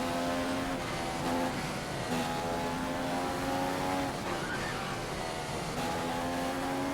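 Engine of a manually shifted car in a racing video game, a steady mid-loud drone that rises in pitch through each gear, with a couple of upshift drops, and no talk.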